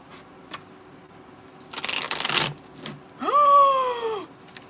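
A tarot card deck being shuffled gives one short, papery riffling burst lasting under a second, then a brief voiced exclamation follows.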